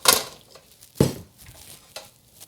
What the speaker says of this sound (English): scrape off our paddle